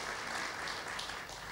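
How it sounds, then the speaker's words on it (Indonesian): A church congregation applauding to welcome guests, a brief, even patter of many hands clapping at low level throughout. "mari jemaat kita berikan tepuk tangan."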